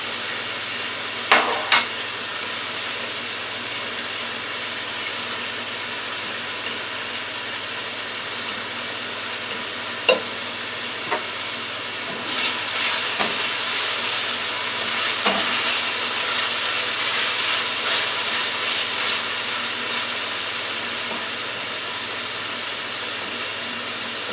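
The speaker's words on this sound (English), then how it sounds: "on this side of the frying pan that I have nothing over there, I'm going to add the egg. Scrambling it first for one egg." A single egg scrambles in a frying pan for beef fried rice, giving a steady broadband sizzle throughout with a few sharp scraping clicks from the utensil, close and fairly loud with no talking.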